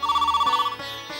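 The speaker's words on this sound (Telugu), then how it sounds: "ఫోన్ రింగ్ అవుతుందండి" An indoor telephone rings with a rapid electronic trill, one short burst followed by softer tones, close and clear with no talking over it.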